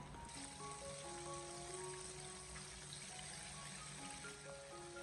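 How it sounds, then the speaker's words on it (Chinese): Chicken mid-wings, coated in starch, sizzle steadily in a pan of oil heated over medium flame, a dense continuous frying hiss with soft music underneath. "然后再把鸡中翅给它一个个的分散的放进油锅里面"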